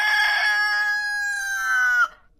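A rooster gives a single loud, clear crow close by, sustained for about two seconds before breaking off into silence.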